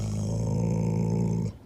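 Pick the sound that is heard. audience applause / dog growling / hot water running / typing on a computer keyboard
dog growling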